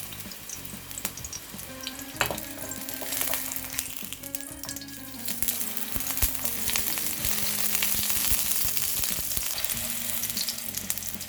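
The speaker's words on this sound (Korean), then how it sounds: "팬에 올리브 오일을 둘러 주시고요. 양파를 구워주도록 하겠습니다" Sliced onions frying in olive oil in a pan, a steady close sizzle that grows denser and louder over time, with occasional clinks and stirring scrapes, no talking.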